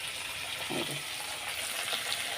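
Chilli paste and ground cumin fry in a pan, a soft steady sizzle close by with a brief stir scrape partway through.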